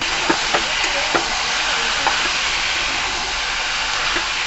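Malabar spinach stems and eggplant pieces fry together in a pan, a steady broadband sizzle with scattered spatula scrapes and ticks, close and fairly loud with no voices.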